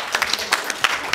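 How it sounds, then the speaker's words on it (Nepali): An audience at a live comedy stage show breaks into applause, a dense patter of clapping with sharper individual claps popping out, with faint voices underneath. "जोरदार ताली दिउँ त।"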